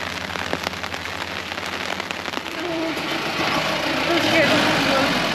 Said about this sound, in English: it has started to rain quite heavily and it's become really foggy too